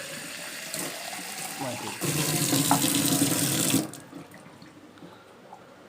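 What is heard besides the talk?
pouring water into a glass bottle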